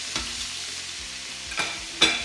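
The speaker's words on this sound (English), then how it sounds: "That hot sizzle, your oil is hot enough" Steady, close frying sizzle of sweet potatoes and chicken in hot oil in a pan, with a couple of brief louder crackles and stirring scrapes partway through.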